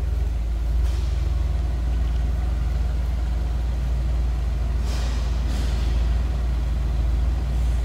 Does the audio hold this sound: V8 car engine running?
yes